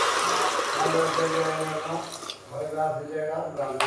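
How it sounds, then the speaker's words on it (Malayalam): Water is poured into a cooking pot for Kannur-style tomato rice, a steady splashing hiss heard under a person talking throughout. "വെള്ളം ഒഴിച്ച് കൊടുക്കാം."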